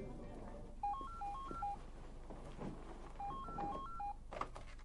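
Push-button telephone dialing tones for a call sound as two quick bursts of short beeping key tones, each a rapid series of distinct pitched blips, faint against a quiet room hum.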